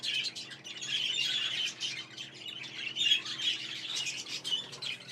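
Many budgerigars in a budgie stud chirp, tweet and squawk continuously, a dense overlapping chorus of bright calls from a large aviary flock with no talk.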